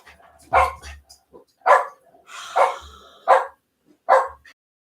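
Indoor dogs bark in short, sharp bursts, five or six loud barks spaced irregularly over a few seconds, with quiet gaps between them and no talking.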